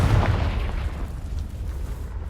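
A Confringo spell explodes in Hogwarts Legacy, a deep booming blast that hits at once and then rumbles and fades over a couple of seconds, with no voices.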